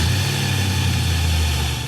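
A Chevy Blazer 4x4 with a swapped-in LS V8 idles steadily, its deep, loud, even rumble close and continuous with a slight lope, no voices present.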